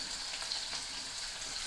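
Onion sizzles steadily in a hot pan on a gas stove, frying until translucent, a continuous crackling hiss with no talking.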